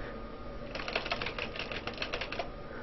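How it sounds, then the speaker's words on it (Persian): Typing on a computer keyboard while using Word 2010, a faint, quick run of light key clicks against a quiet background hiss. "حالا اینجا شما میتونید اینجا مطلبی رو تایپ بکنید"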